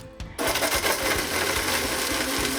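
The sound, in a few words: blender crushing coconut with water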